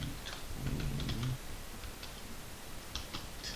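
Typing on a computer keyboard during an SQL coding lesson: a few quiet, scattered key clicks in short bursts over a low background murmur.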